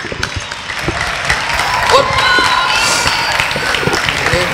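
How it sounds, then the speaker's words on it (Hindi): An audience applauds and cheers at a school dance competition grand finale, sustained loud clapping mixed with shouts and whoops from a large crowd, children's voices among them. "तालियां तो रुकनी नहीं चाहिए"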